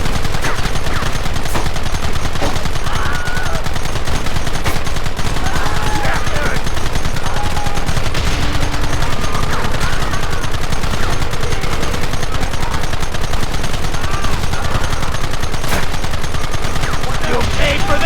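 Dense, continuous gunfire roars through a Red Dead Redemption shootout, rapid overlapping shots and bursts packed tightly together at a steady loud level with hardly any pause, and shouted voices faintly buried under the din.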